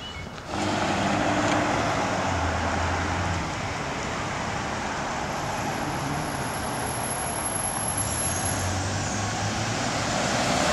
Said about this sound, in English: So there's the yellow school bus on my right,